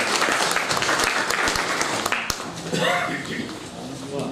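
Audience applause greets a poet at a mushaira, with a brief burst of clapping mixed under an announcer's voice and crowd murmur, fading as speech continues.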